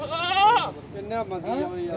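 Goats bleating at a livestock market in Faridkot, Punjab, with a loud, wavering bleat close by and further calls amid crowd chatter.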